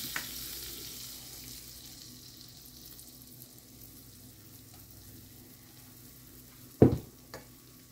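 Pancake batter for a taco base frying in vegetable oil, a low, soft, steady sizzle with a sharp clatter near the end, no talking.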